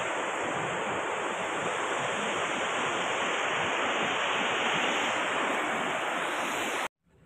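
The Tons River at Prayagraj flows beneath an old bridge and canal in a broad, steady roar of rushing water, constant and fairly loud, cutting off abruptly at the end.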